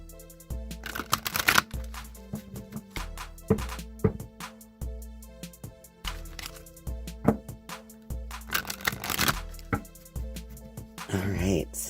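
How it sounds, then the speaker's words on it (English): Queen of the Moon oracle cards are shuffled by hand in several quick riffling bursts separated by soft handling taps and pauses, close and clear. "let's go ahead and shuffle this Queen of the Moon Oracle a few times"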